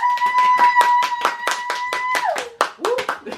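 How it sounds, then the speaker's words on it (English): A small group clapping rapidly and close at the end of a podcast episode, about a dozen sharp claps in quick rhythm, with a sustained whoop-like tone over them. "Round of applause."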